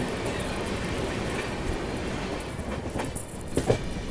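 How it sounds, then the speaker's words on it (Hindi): The Kolhapur–Gondia Maharashtra Express approaches along rural Maharashtra tracks, a steady loud rumble and clatter of rolling wheels with brief rattles near the end, no talk. "सामने से कोल्हापुर गोंदिया महाराष्ट्र एक्सप्रेस आ रही है"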